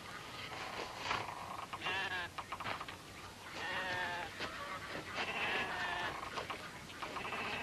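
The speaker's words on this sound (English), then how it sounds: "Now, these are sheep, boy." Sheep bleating repeatedly in a flock, several wavering calls overlapping at moderate distance over steady outdoor background noise, with no speech.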